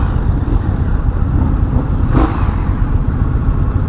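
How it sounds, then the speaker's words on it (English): Indian FTR 1200 motorcycle exhaust droning steadily up close while riding, a continuous low rumble with a brief swell of louder engine noise midway. "that sound of that exhaust sounds like shit."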